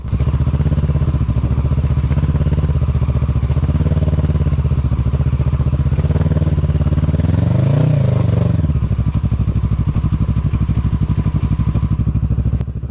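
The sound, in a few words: motorcycle riding and slipping on slippery ground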